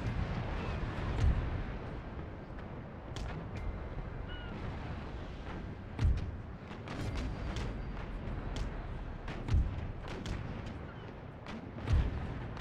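Naval cannon fire in an Empire Total War sea battle: deep, distant booms land every few seconds over a steady rumbling battle ambience, with sharper cracks scattered between them.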